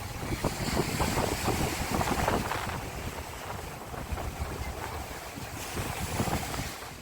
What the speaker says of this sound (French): Avec le son des vagues, genre le vent